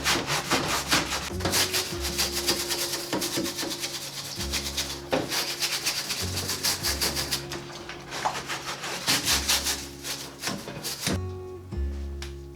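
Someone scrubs dirty food dehydrator trays by hand, giving continuous close rubbing and scraping strokes in an uneven rhythm. A low tonal hum sounds underneath throughout.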